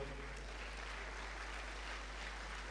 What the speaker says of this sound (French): je vous demande d'applaudir très fort son Excellence